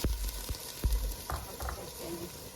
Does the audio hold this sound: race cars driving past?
no